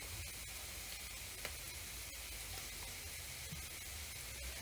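Chopped tomatoes and chopped chilli frying in a pan for red lentil dhal give a faint, steady sizzle with small crackles, alone and unbroken.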